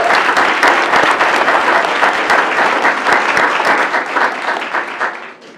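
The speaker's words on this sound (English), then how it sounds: "Please clap it up for that one." An audience in Columbus gives sustained loud applause for an Ohio girls basketball team, a thick wash of many hands clapping at once that stays strong, then tapers off over the last second.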